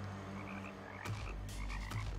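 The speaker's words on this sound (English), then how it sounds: "That's what the frogs scream when the Stardust Dragon approaches them." Frogs in the Terraria video game croak twice, each a loud, abrupt burst about a second apart over a quiet, humming game background.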